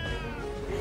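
A pet cat gives a short, muffled meow, faint and brief against a noisy indoor background.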